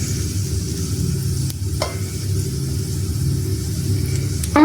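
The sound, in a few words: meat browning in olive oil in a pan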